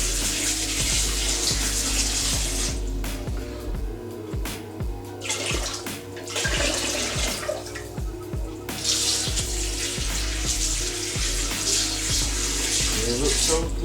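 Cherry tomatoes and other vegetables washed under a running tap, a loud steady gush of water that breaks off briefly twice as the stream is moved, no talking.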